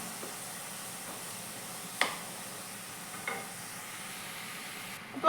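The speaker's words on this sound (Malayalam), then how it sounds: "അപ്പോൾ ക്യാരറ്റ് ചോപ്പ് ചെയ്തതും കൂടെ ഞാൻ അതിലേക്ക് ഇട്ട് കൊടുത്തു." Chopped carrot tossed into a pan for Kerala-style thoran, a faint low sizzle with a couple of sharp clicks of a spoon stirring against the pan.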